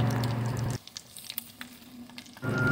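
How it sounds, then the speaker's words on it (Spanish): Chili seeds and garlic frying for a guava mole, a brief loud sizzle that drops away to quiet for over a second and then returns strongly, with a few light clicks in the pause. "Freímos las semillas de los chiles."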